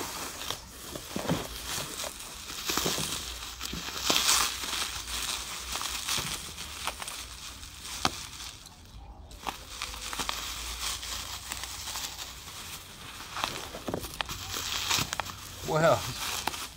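Plastic wrapping being pulled off a new saw, a continuous close crinkling and rustling that runs steadily for many seconds, with a few sharper tearing bursts and a brief pause midway.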